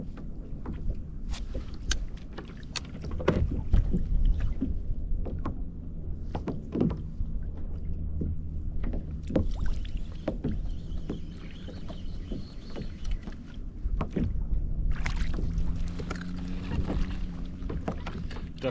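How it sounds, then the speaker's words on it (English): Kayak paddling at sea while lure fishing for cod, soft rhythmic paddle strokes and water splashes with knocks against the hull under light wind noise. "I've been paddling for about 20 minutes"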